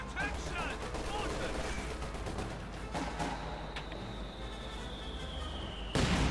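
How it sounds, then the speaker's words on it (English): A Grenadenwerfer mortar shell strikes amid a Company of Heroes 2 battle, with thumping impacts and crackling gunfire over a dense, continuous wash of battlefield noise and a sharp louder blast near the end. "Good hit there from the Grenadenwerfer."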